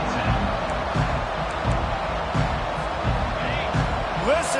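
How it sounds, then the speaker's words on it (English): A dense, steady crowd roar fills a large football stadium during Alabama vs LSU, with rhythmic swells and thumps; a commentator-like voice is faintly mixed in. "Listen to this crowd just shaking the girders of this place"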